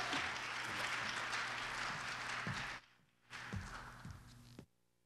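A round of applause from the audience at a performing arts competition, a broad wash of clapping that drops out abruptly, returns briefly, then cuts off, with a few soft thumps underneath.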